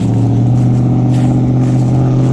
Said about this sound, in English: Got some pipes on that truck.